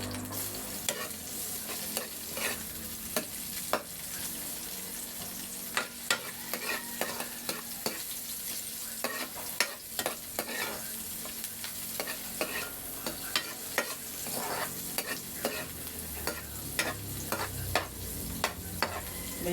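Garlic and onion frying in a pan, a steady close sizzle with frequent sharp scrapes and clicks of a spatula stirring, continuous throughout with no talk.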